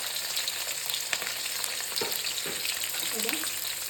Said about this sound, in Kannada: ಇದಕ್ಕೆ ಇವಾಗ ಹಸಿಮೆಣಸಿನ್ಕಾಯಿ ಹಾಕ್ಕೊತಿದ್ದೀನಿ